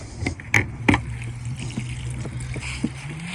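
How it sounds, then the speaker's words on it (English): Water drains out of a DIY rolling livewell through its bottom plug. A steady close trickle runs under a low hum, broken by a few sharp knocks and splashes near the start. "and I'll let the water out"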